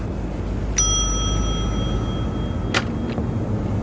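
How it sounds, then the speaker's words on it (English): A hotel front desk bell in The Wolf Among Us game gives a single bright ding that rings out and fades slowly, followed by faint game noises. "Ring the bell."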